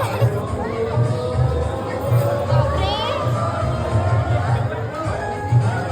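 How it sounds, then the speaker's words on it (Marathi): A dense crowd packed around the Shyam Kund temple tank during light rain, a continuous loud hubbub of many voices with chatter and occasional children's shouts close all around. "गर्दी इतकी आहे की कुंड पण नाही दिसत आहे."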